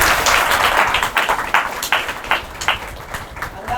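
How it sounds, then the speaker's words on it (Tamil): A women's tailoring class applauds a student's sewn outfit with close, rapid clapping from a small group. The claps run continuously at a fairly even rhythm. "இல்லை ஒரு கைத்தட்டல்."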